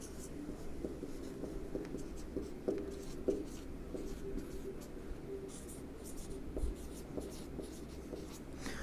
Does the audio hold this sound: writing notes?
yes